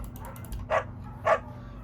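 A dog in the video game Firewatch gives two short barks about half a second apart over a low hum, with faint yips before them.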